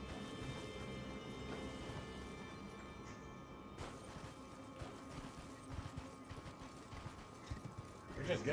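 Steady rhythmic hoofbeats of a galloping horse in Elden Ring, amid a dense, noisy game soundscape with background hum.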